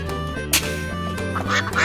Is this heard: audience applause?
no